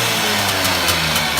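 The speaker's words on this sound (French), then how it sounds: "Redémarrer un scooter qui a pas démarré depuis je sais pas combien d'années." An old Peugeot SV 80 scooter engine, restarted after years unused, runs steadily at idle, a continuous low rumble with faint periodic ticks, close by and alone without voices.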